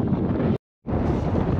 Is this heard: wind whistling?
yes